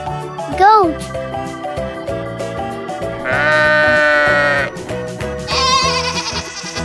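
Farm goat bleating in two long, quavering cries following a brief rising call, loud and near over steady background music, while a voice speaks briefly.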